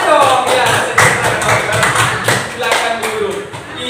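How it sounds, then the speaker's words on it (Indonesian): A classroom of students claps for a classmate: a scattered, moderately loud patter of hand claps that goes on steadily throughout, mixed with voices. "Berikan tepuk tangan untuk kawannya dong."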